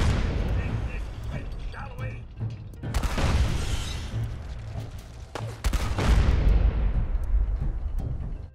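Mortar rounds boom in Fallout 4, heavy explosions with rolling crackling debris, a few large blasts spaced seconds apart amid clanking weapon mechanisms, loud and close.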